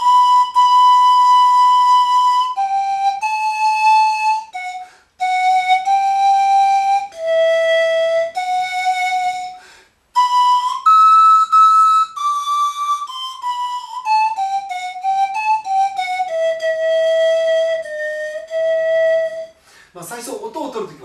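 Pan flute plays Susato's Pavane solo, a slow melody of sustained breathy whistling notes with short gaps between phrases, loud and close, no talk.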